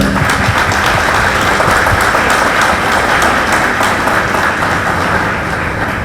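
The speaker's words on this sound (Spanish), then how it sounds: "Un fuerte aplauso para el señor Edgar" Strong audience applause at an international artificial intelligence forum, a loud, close, continuous crackle of many people clapping that holds steady throughout.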